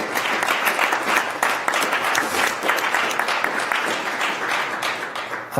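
Attendees at a governing board meeting give a sustained round of applause, dense and even-toned, mid-distance, with a faint murmur of the crowd beneath.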